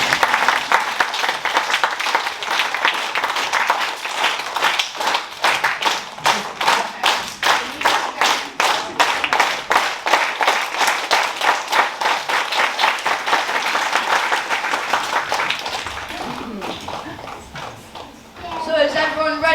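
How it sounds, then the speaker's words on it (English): Sustained applause from a school assembly audience, steady and fairly loud for about fifteen seconds, then fading into murmurs and movement at the end. "Let's have a clap then while we're doing this."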